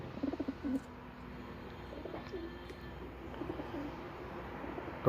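Teddy pigeons, a fancy feathered-foot breed, coo in a loft with a few soft low calls early and again at the end over a quiet room hum.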